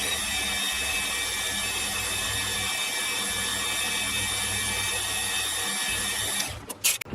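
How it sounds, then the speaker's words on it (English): A steady, loud machining whine with a grinding drone runs continuously as an end mill drills a hole in a Webster engine part, then cuts off near the end with a few short clunks. "I'm literally only drilling a hole"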